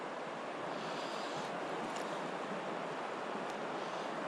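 Foamy white water on the River Ayr rushes in a steady, continuous broadband hiss, fairly quiet and unbroken throughout.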